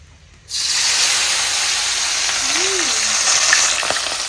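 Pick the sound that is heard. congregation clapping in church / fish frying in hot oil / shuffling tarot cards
fish frying in hot oil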